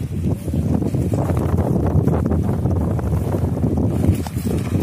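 Strong wind buffets the microphone outdoors near water, a steady, loud rushing roar with gusty low rumble throughout, alongside a boat on the water.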